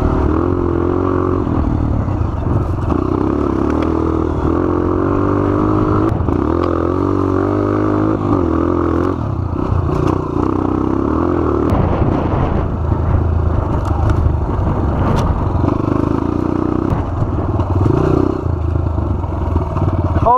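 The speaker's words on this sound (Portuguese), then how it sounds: "A saga da moto sem embreagem." A motorcycle with no working clutch labours through sand, its engine droning and revving unevenly for a long stretch with rattling clatter and scraping, loud and close, no clear talk.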